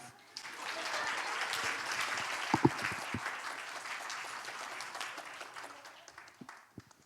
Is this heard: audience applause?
yes